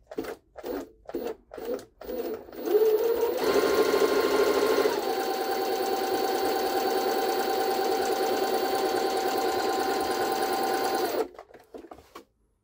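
A Jaguar SJ-23 sewing machine stitches in short stop-start bursts, then runs in one long, steady, close whirring stretch before stopping, followed by a few more brief taps.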